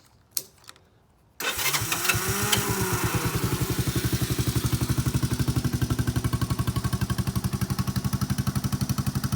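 A Honda Fourtrax TRX125 ATV engine cranks after a few faint clicks, catches and settles into a close, loud, rapid steady idle that continues to the end.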